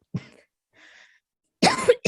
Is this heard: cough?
yes